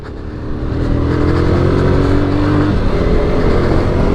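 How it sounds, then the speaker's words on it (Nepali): A motorcycle fitted with a replaced silencer pulls away, its engine swelling from a quiet start into a loud, steady revving roar heard close. "बाइक चाहिँ एउटा साइनेसर मात्रै फेरे हो, त्यतिकै जान लागिरहेका छौँ"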